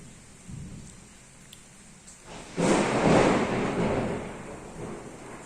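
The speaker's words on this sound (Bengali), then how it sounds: "জোর বাজ পড়ল" A loud thunder strike bursts in suddenly during a rainstorm, a close crack swelling into a heavy rumble that slowly fades over soft, steady rain.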